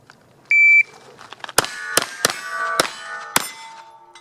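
A KelTec PMR 30 pistol firing .22 Magnum rounds: a short electronic timer beep, then five sharp, loud shots at uneven intervals, each followed by a metallic ringing tail.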